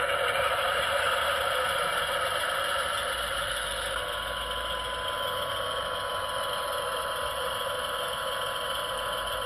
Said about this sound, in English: So let's just put the engine on.